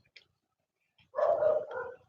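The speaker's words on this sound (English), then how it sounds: "my dog thought somebody knocked on the door" A dog gives a short run of sharp barks, close and fairly loud, after near silence, reacting to a noise indoors during a casual chat.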